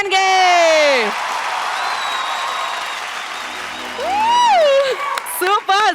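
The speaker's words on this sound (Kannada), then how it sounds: "ಬರ್ಲಿ ಚಪ್ಪಾಳೆ ನಮ್ಮ ಜಿ ಮ್ಯಾನ್ಗೆ" Audience applause and cheering on the Kannada comedy show Majaa Bharatha's grand finale, loud clapping with whoops running under a host's voice, which rises and falls with rising sung or shouted tones.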